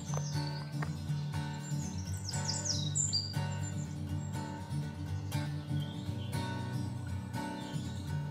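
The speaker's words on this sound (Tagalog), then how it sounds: "Spotted wood owl." A spotted wood owl calls among other birds in Philippine forest, with repeated low, steady hooting tones running under scattered higher chirps and tweets.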